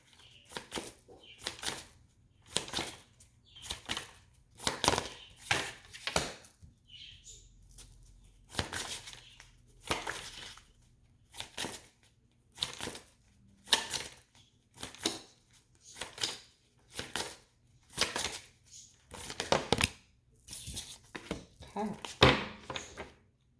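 Tarot cards are shuffled repeatedly in quick riffling bursts with short gaps between, close up and moderately loud, with occasional soft voice in the pauses.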